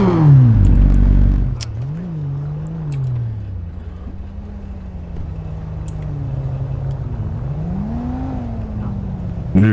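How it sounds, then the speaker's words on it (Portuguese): A Yamaha XJ6 motorcycle in GTA V drones and revs with a rough, noisy, rising and falling exhaust note, loud after a heavy opening burst; a voice briefly talks over it. "e esse escape barulhento aí?"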